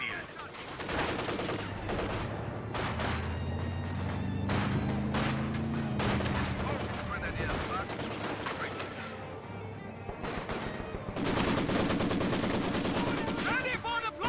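Heavy machine gun fire rattles through a Company of Heroes battle against Soviet forces and a flak half-track, sustained bursts mixed with scattered gunshots and crashes, with game voices calling out over the din.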